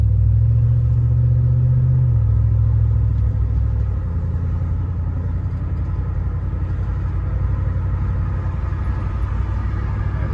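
A 4th gen Toyota 4Runner V8 with a muffler delete rumbles steadily while driving in slow traffic, its deep exhaust drone loud and continuous with a slight drop in pitch partway through.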